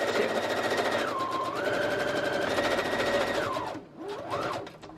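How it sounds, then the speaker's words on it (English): A sewing machine stitches a fabric tag pocket with a steady, close, rapid hum whose pitch rises and falls as the speed changes, then pauses briefly and restarts near the end. "I'm going to start by sewing it all by itself on that side"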